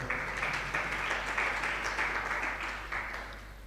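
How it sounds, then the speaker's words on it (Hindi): Audience applause during a Jain monk's spiritual discourse on the epic Mook Mati, a steady wash of many hands clapping that sustains throughout and fades slightly toward the end, with no speech over it. "तो लोगों को ताली बजाने की आदत हो गई क्या?"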